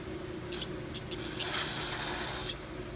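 Short spritzes from an aerosol can of carburetor cleaner, sprayed on a Honda HRB215 lawnmower carburetor: a couple of quick bursts followed by a longer hissing spray, close by and fairly quiet.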